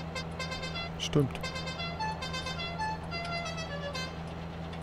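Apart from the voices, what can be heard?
vehicle horn honking in Landwirtschafts-Simulator 19 video game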